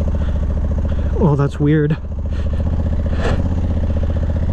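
A Honda DCT motorcycle idles, then its engine rises and falls in a couple of short throttle blips during a slow U-turn with the rear brake held, close by, with a rider talking briefly.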